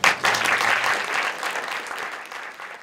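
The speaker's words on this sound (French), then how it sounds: "Je pense qu'on peut les applaudir" An audience applauds at a short film night in a Parisian cinema, with dense, close clapping that starts loud and gradually thins out.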